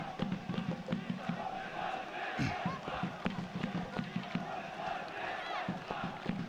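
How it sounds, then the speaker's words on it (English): Crowd of fans at a rugby sevens match at a military complex, a steady murmur of many voices with scattered shouts and footfalls under it, moderately distant and continuous. "There's quite the crowd here taking relief in the shade at this military complex"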